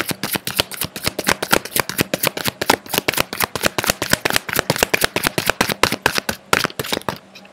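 Oracle cards shuffled rapidly by hand, a dense run of crisp riffling snaps at a steady quick rhythm, close and loud, ending with a brief pause.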